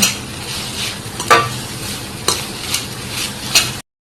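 A spoon stirs spinach with fried onions in a sizzling pan over a gas flame, with a steady fry hiss and several sharp scrapes and clinks against the metal, close up and with no talking.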